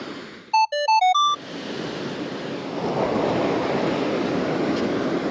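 Surf rolling in at a beach at night, a broad steady wash that swells louder partway through, preceded by a brief electronic beeping chime near the start.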